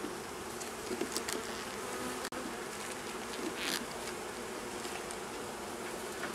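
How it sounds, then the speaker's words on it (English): Honey bees buzz steadily and densely across brood frames lifted from a hive in Norfolk, a continuous close-up hum of many insects with no voices. "On this side you can see there's many bees on there. They're feeding away."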